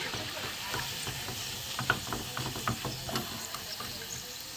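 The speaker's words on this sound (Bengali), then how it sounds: "এগুলো ভাজা হয়ে গেছে, এবার তুলে নেব।" Bread pakoras made from leftover bread crusts frying in hot oil, a steady close sizzle and hiss with small stirring clinks and a brief louder splash near the middle.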